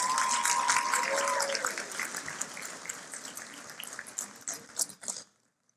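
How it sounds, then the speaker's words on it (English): Audience applause at an education awards gala honoring a percussionist teacher, a dense clatter of clapping that is loud at first and then thins out and tapers to a few scattered claps before falling silent. "let's give him a round of applause"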